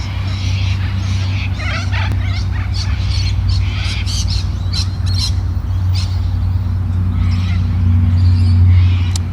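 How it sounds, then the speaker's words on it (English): Birds squawk and call in irregular bursts at close range over a loud, steady low hum that runs the whole time. "As my birdies vanish."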